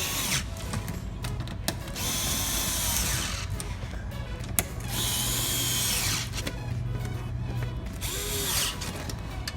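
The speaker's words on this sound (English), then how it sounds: "holes are being drilled into the fascia using the splitter as a template" Power drill boring holes into the front bumper fascia of a Corvette, with a composite front splitter held as a template; the motor whines loudly in three long bursts separated by brief pauses and clicks.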